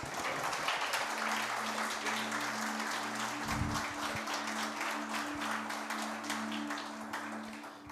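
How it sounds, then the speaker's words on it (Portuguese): Church congregation clapping during a sermon, a sustained wash of applause with a low sustained instrumental drone underneath, fairly even and moderately loud, trailing off slightly at the end. "E uma salva de palmas para o Senhor Jesus?"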